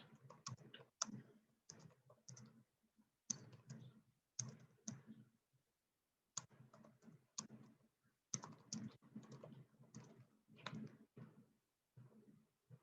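Fingers type on a computer keyboard in short bursts of quiet clicks, stopping briefly between bursts, heard faintly and close with no talking.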